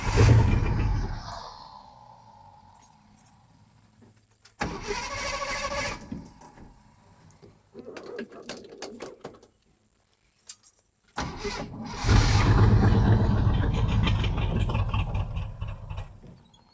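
A 1973 Jeep J2000 with an AMC 360 V8 cranks and catches in several separate attempts, short bursts of engine noise between quiet gaps, then a final start that settles into a loud, steady running idle close by.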